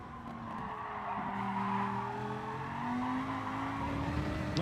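A race car in GT Sport slides through a corner with tires squealing in long drawn-out wails over the steady drone of the engine. It is fairly quiet, with no talking.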